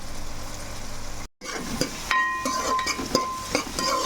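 Onions frying on low heat in a pan for Telugu-style fish curry, a steady close sizzle broken by a brief cut, with clinks and scraping of a stirring spoon against the pan.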